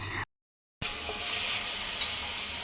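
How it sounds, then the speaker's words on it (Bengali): Ghugni, a yellow pea curry, cooking in a pan, with a continuous close sizzle and stirring broken by a brief silent gap, no voices. "এখানে রান্না হচ্ছে ঘুগনি হচ্ছে আমার বৌমনি বানাচ্ছে ঘুগনি"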